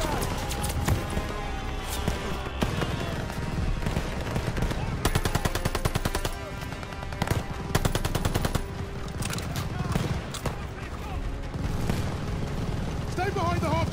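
Soldiers in the Call of Duty: Vanguard campaign mission Operation Tonga fire guns beside half tracks: dense, sustained bursts of machine-gun and rifle fire, loud and close, with shouted voices mixed in throughout.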